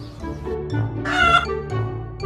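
Farm chickens cluck and murmur close by, a short burst of fowl calls with a brief louder squawk in the middle, no talking.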